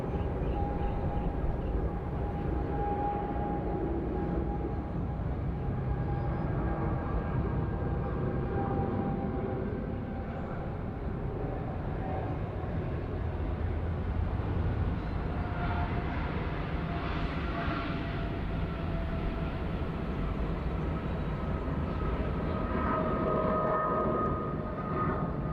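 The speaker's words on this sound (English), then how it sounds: "it sounds like a very low power takeoff, as you could probably expect, only flying to Manila" An airliner bound for Manila makes a low-power takeoff at Bangkok airport, a distant steady jet roar that swells slightly midway and holds as a broad, even rumble.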